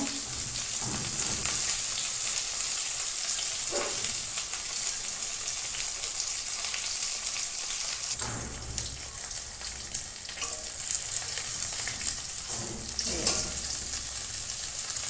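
Ash gourd leaf fritters fry in hot oil in a pan, giving a steady crackling sizzle throughout, with occasional soft scrapes and clinks as they are turned.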